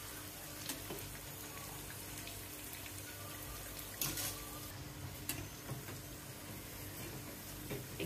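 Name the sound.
mirchi bajji chili fritters frying in oil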